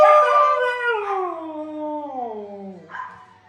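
A single dog gives a long, sliding howl that starts high and slowly falls in pitch, followed by a brief whimper at the end.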